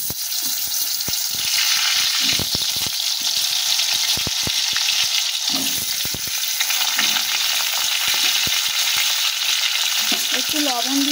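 Potato pieces fry in hot oil with a steady, loud broadband sizzle, while scattered clicks and scrapes of stirring break through and a brief higher clatter comes near the end; no voices.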